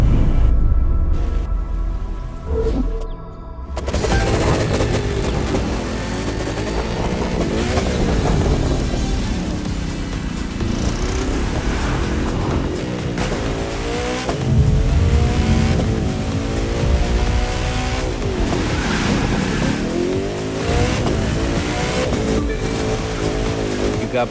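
Race cars in The Crew 2 racing game, engines roaring and revving continuously at close range for most of the stretch, with surging pitch sweeps as they accelerate and shift, after a brief quieter opening, and a voice talking over parts.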